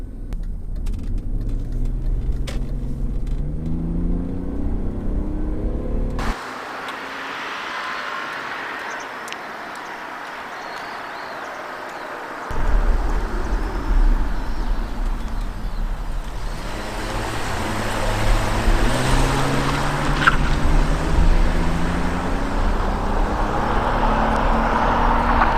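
A 2001 BMW E39 530i accelerates on a test drive, running up through the gears, its engine rising and dropping in pitch with each shift under steady road and cabin noise.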